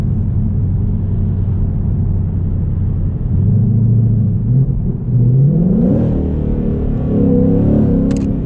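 A 2020 Ford Mustang GT with the 5.0 V8 accelerates on a road test drive. A steady, loud engine rumble builds as the revs climb through several rising pulls, heard from inside the car with no talk.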